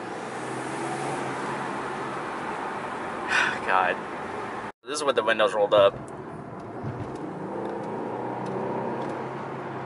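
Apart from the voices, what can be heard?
Infiniti Q50 engine induction noise with aftermarket intakes, inside car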